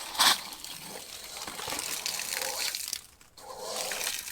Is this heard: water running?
yes